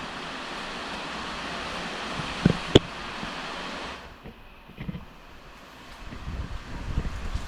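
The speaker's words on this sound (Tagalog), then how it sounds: "Lakas na ng ulan dito mga boss na may kasamang ihip ng hangin." Steady heavy rain roars during Typhoon Opong, with gusting wind buffeting the microphone, easing slightly partway through, with a couple of sharp knocks.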